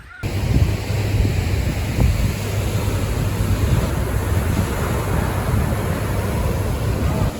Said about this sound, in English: I think this is Black Sand Beach.